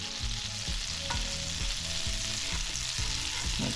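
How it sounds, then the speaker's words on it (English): Butter bubbles and sizzles in a frying pan, a soft steady crackle under a low rhythmic thumping pulse, close and faint. "I'm sure you can hear that butter starting to bubble"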